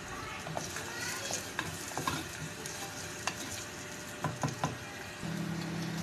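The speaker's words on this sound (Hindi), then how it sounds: "प्याज को आप अच्छे से तेज़ आंच पे पकाएं" Onion sautéing on high heat for mutton kunna, a steady sizzle with stirring clinks and scrapes, close and moderately quiet, no talk.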